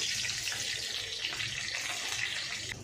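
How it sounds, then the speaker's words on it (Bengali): Cumin seeds and a bay leaf frying in hot mustard oil in a kadai, giving a steady, dense crackling sizzle that runs unbroken at fairly close range, with no voices. "দেখো জিরেটা ভাজা হয়ে গেছে"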